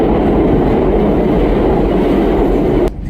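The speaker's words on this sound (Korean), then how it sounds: "시카고 메트로 열차는 완전 덜컹거리고 시끄럽고" A Chicago metro train rattles and rumbles loudly and continuously, with a dense clattering roar from the carriage that cuts out abruptly near the end.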